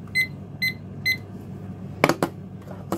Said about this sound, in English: So I'm going to turn my timer on.